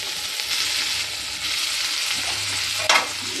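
Tomatoes, curry leaves and coriander fry in a hot pan with a steady close sizzle, a spoon stirring and scraping through it and one sharp clack near the end, with no talking.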